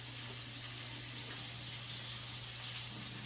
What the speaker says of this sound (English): We'll pour out the water.